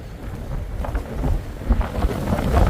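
Strong wind buffets the microphone outdoors at a garden area of a prehistoric village site, making uneven low rumbling gusts that swell and build in loudness toward the end.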